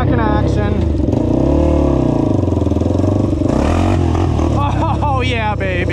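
A Honda 400ex ATV engine revving loud and close, its pitch rising and falling through repeated throttle blips with a rough, clattery exhaust note, while a rider talks over it.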